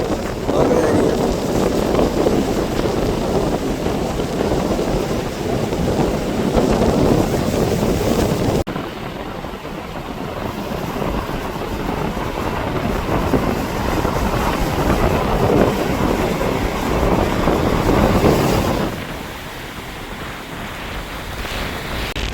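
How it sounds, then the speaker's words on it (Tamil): Rough, churning sea whipped by strong cyclone winds on the Jaffna coast: a loud, continuous roar of surf and gusting wind buffeting the microphone, with a brief lull near the end. "அதுக்கு மேலால் வந்து கடல் வந்து கொந்தளிச்சு கொண்டிருக்குது"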